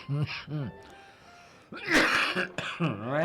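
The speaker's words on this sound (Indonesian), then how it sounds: "Batuk kamu itu." A single short, harsh cough bursting out between stretches of indoor conversation, with people talking before and after it.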